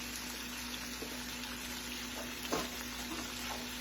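Cornmeal-coated summer squash frying in a pan, a faint, steady low sizzle with a soft crackle or two, nothing else over it.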